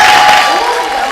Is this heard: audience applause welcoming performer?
yes